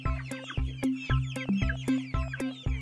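A mother hen in a Malayalam children's cartoon clucks in a steady repeating pattern with her chicks, short clear calls spaced about every half second, fairly quiet.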